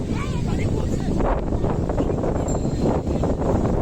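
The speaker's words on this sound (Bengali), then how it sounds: "এত পরিমাণে হাওয়া আর বাতাস" Strong gusty wind buffeting the microphone at a riverside viewpoint beside a ghat with swaying boats, a loud continuous roar filling the whole stretch.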